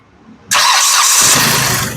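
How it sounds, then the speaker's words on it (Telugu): A 2016 Hyundai Grand i10 Sportz engine cranks and catches abruptly on a single start, roaring loudly and close, then settling into a steady running note. "సింగిల్ సెల్ఫ్ లో కార్ స్టార్ట్ అవుతుంది ఎటువంటి స్టార్టింగ్ ట్రబుల్ అయితే లేదండి"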